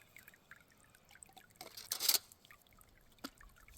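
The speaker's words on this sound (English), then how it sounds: "That is filling with water." Water trickles into the hole around a sprinkler head in a home irrigation system. A faint, quiet dribble builds to a brief louder gush midway, then fades back to a soft intermittent trickle.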